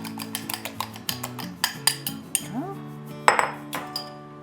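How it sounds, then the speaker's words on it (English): An egg is beaten in a bowl with a utensil, producing a quick series of bright clinks and taps against the dish with ringing tones, close and clear with no talking. "I'm gonna add 1 egg, and I like to give this a little mix before I put it in."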